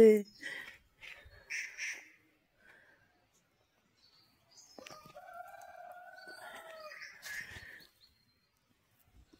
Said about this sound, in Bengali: তোমরা মোরগের ডাক শুনতে পেলে।